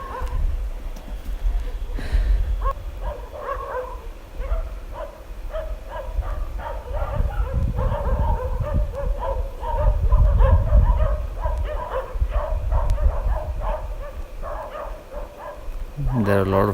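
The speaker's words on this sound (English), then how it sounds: "There are a lot of dogs barking." Many dogs bark and yip repeatedly in the distance in Kaza, Spiti, in winter, a busy overlapping chorus over low rumbling background noise.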